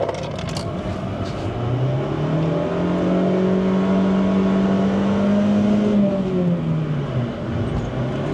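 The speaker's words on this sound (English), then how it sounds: "Slippy clutch." Honda Jazz engine revving with a slipping clutch, a sustained droning engine note rising and then falling over several seconds, loud and continuous.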